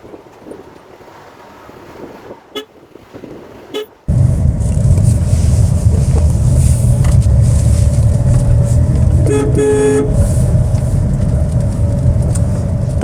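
A car is steered around a tight turn in a cramped spot with little room on the right, engine and road rumble suddenly swelling loud and close, then holding steady.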